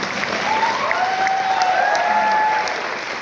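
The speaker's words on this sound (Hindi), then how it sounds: "मेरी शादी भी हुई थी तो एक बार ताली के लिए भी चाहूंगा" Sustained audience applause fills the room, steady and fairly loud throughout, with faint whistle-like tones riding over the clapping.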